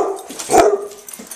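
A single dog bark rings out at a rainy-day dog camp, loud and close, with a short yip trailing off after it and music playing faintly in the background.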